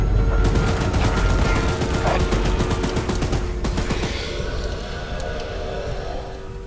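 Rapid bursts of gunfire aimed at Choo-Choo Charles, the monstrous train in the video game, crackle loud and dense over a rumbling low background, then thin out toward the end.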